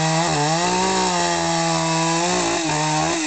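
A chainsaw runs steadily while trees are being cut down in the Braid near Cairnalbanagh, its engine drone loud and close with brief dips in pitch as the blade bites into the wood.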